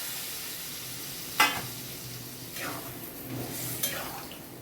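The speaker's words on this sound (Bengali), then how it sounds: "সমস্ত মশলা ভালো মতো কষে গেছে, এবার আমি জল দিয়ে দিচ্ছি।" Spices that have been fried down in a pan for a spiny gourd curry sizzle and stir, with two or three sharper hisses as small amounts of water hit the hot oil. A steady low frying hum runs underneath, and no voices are heard.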